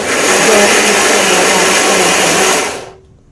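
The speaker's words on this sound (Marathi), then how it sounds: "थोडा थोडा गर आपल्याला मिक्सरला बारीक करायचा" A mixer grinder blends cooked raw mango (kairi) pulp with a loud, steady, high whirring drone that runs on its own for close to three seconds, then cuts off abruptly.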